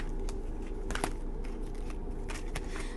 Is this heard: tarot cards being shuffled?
yes